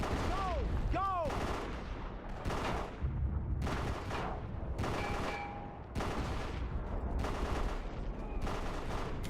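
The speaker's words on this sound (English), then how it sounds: "We're being shot at by 2 guys" Gunfire in a war video game: repeated loud bursts of shots crackle through the whole stretch, mixed with sweeping whistle-like tones early on and other battle noise.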